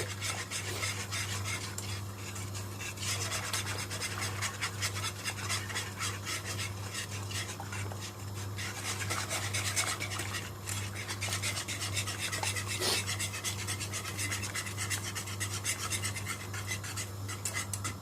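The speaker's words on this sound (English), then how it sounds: "I'm just going to mix this until this becomes thick" Milk pudding thickening in a pot over raised heat, stirred steadily with a utensil scraping and rubbing the pot, giving a continuous close rasping sound over a low steady hum.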